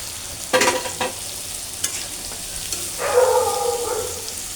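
Shrimp and potato bhuna cooks in a pan with spice paste and green chilies. A low, steady fry hisses beneath a few sharp stirring scrapes, with a louder sizzling burst toward the end.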